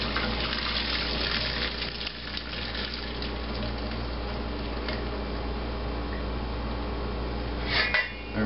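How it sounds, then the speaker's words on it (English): Water is drained off boiled potatoes from a cooking pan, with the lid tilted slightly ajar, giving a steady splashing pour into a sink that continues for several seconds. "and then pour the water off."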